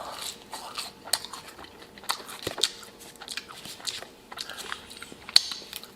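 Wendy's pub fries being eaten close to the mic, with soft irregular crunchy bites and chewing and scattered small clicks, quiet and without talk.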